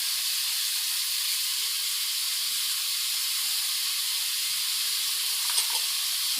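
Onions and curry leaves sauté in hot oil, making a steady, bright, hissing sizzle up close that holds evenly throughout with a faint stir near the end.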